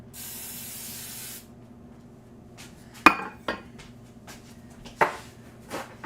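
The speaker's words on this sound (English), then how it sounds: "I'm gonna spray them a little bit more." Nonstick cooking spray hisses from an aerosol can onto a donut pan in one steady burst lasting over a second, followed by clinks and taps of metal bakeware being handled.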